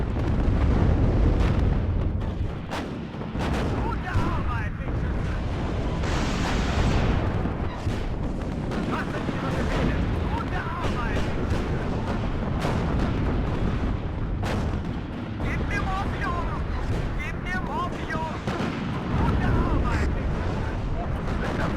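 Sustained artillery fire and explosions from the WARNO real-time strategy game, heavy booms and blasts rolling one after another throughout with dense low rumble, battle noise loud and continuous with scattered voice chatter mixed in.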